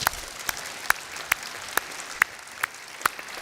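Sparse, rhythmic clapping from an audience at a congress: a few steady, spaced claps ringing out over a quiet hall.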